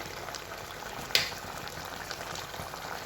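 Hilsa fish curry in a mustard-poppy sauce simmers in a pot, giving a steady, faint bubbling hiss with a single brief sharper sizzle partway through.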